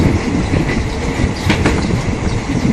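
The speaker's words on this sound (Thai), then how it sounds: "นี่ก็เป็นบรรยากาศ รถไฟก็วิ่งไปเรื่อย ๆ" A Thai railway train running along the track in the pre-dawn dark around five in the morning, its loud, continuous rumble and rattle carrying close by with faint clickety-clack of the wheels and a brief metallic squeal, no talking.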